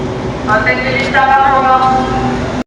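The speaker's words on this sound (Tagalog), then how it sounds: "sasakay kami ng tren, sasakay kami ng LRT" Inside an LRT light rail car, the train hums and whines steadily with rising tonal motor pitches, loud and close, with people talking over it.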